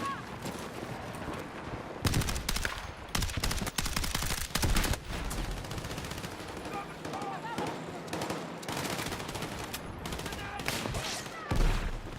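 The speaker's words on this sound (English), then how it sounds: "sniper shooting at me everywhere" Sniper fire and other gunshots crack through a Battlefield 6 video game match, loud repeated bursts over a busy battlefield bed, with a player talking through parts of it.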